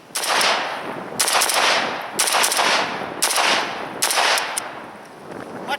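An AK-47 rifle on the 7.62x39 platform fires in bursts, about five rapid loud volleys of cracking shots spaced roughly a second apart, close and sharp with no voices.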